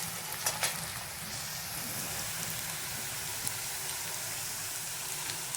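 Ginger garlic paste fries with onion in hot oil, giving a steady, even sizzle that holds without a break throughout, with faint clicks over it.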